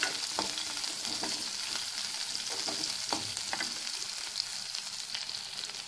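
Large onions frying in a pan for carrot poriyal, a dense, steady sizzle with intermittent stirring clicks, close and continuous.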